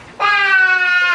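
A person imitates a sheep with a single sustained, bright bleat lasting about a second, close and clear with no other sound, performed as part of a Passover play.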